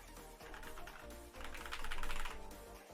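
Computer keyboard keys clattering in rapid, uneven bursts, close and fairly quiet, with a busier stretch in the middle and no talking.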